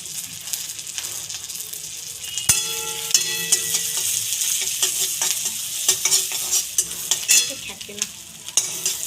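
Chopped garlic and ginger sizzle in hot oil in a pan while a utensil stirs and scrapes through them. The frying hiss is steady and bright, and the scraping is irregular, with a sharp clink of metal on the pan.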